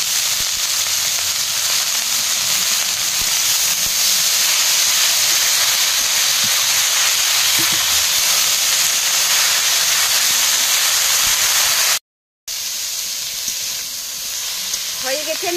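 Bottle gourd leaves fry in a pan with green chili and garlic, giving a loud, steady hiss and sizzle that carries on for the whole stretch, broken by one short gap of silence near the end.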